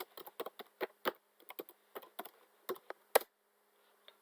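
Keystrokes on a computer keyboard tap out a short run of quick, irregular clicks at close range while a wallet name is entered, ending with one sharper key hit and a faint final tap, no voices.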